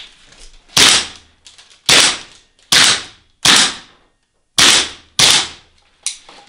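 Seven sharp, loud shots from an airsoft gun, costing 1750 euros, fired one at a time at roughly even intervals, each a crisp crack with a strained mechanical whir of overworked gears, separated by short quiet gaps.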